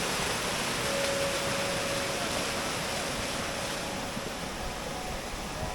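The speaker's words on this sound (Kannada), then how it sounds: "ಆ ನೀರಿನ ಶಬ್ದ ಕೇಳಕ್ಕೆ ಚಂದ ಬಂಧುಗಳೇ." Steady rushing water flows near a hill trek road at Kemmannugundi, a dense continuous roar that fills the whole stretch with no voices over it.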